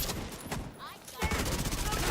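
Submachine-gun fire from The Division 2 video game, dense rapid bursts that pause briefly and then resume loud and continuous, with a quiet voice faintly under the shooting.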